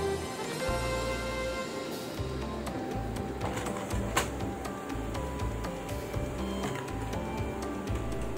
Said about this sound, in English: your printer will start printing.